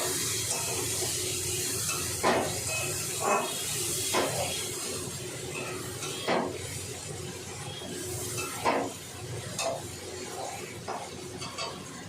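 Rohu fish oil sizzles in a pan while being stirred, giving a continuous hissing fry with occasional scraping strokes and soft knocks spaced a second or two apart.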